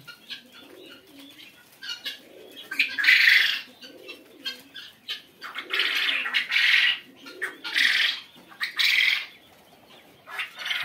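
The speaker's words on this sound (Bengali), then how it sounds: "দেখতেই পাচ্ছেন আমার কাছে কোয়েল পাখি কয়েকটা কালার আছে।" Quail birds of several colours on a quail farm, giving bursts of squawking and chattering calls that rise and fall against softer cooing, close and fairly loud.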